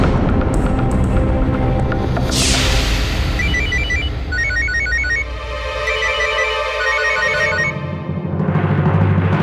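A telephone rings at home with repeated electronic ringtone bursts in a steady pattern over a busy, loud background of music and ambience.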